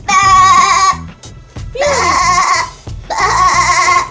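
A voice imitates a goat, giving three loud, wavering bleats in a row, each about a second long with short pauses between.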